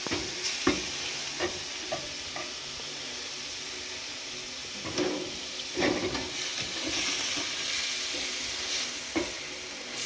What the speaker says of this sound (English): A nice hot pan now. We'll put these bits straight in.